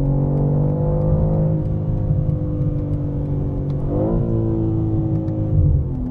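A 2024 BMW M3 CS with its S58 engine accelerates under load, a steady loud mid-range drone whose pitch climbs, dips briefly at a gear change, then rises again, heard close with no talk.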